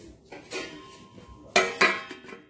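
A lid is closed onto a container of dosa batter in a kitchen, a few sharp clattering knocks and clinks of metal or pot against rim, two loud ones close together near the end.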